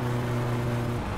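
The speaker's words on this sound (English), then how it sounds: "it's really bogging down. Yeah, it's losing power like now. I can't even rev it up." A misfiring car engine in the My Summer Car video game labours at low revs, giving a steady, muffled droning hum that bogs down without picking up speed.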